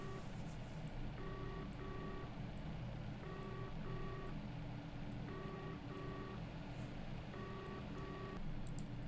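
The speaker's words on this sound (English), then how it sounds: "there's an incoming call coming in here" An incoming call rings in VoIP software as a repeating two-tone electronic trill, short bursts at regular intervals of about two seconds, faint over a steady hum with no talking.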